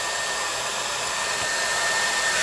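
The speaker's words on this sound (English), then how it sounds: "keep your blow dryer handy, set it to cool. And blow." A hair dryer on its cool setting blows steadily onto freshly curled eyelashes, giving a loud, continuous, even whoosh of air with no pauses and no voices.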